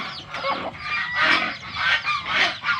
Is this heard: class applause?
no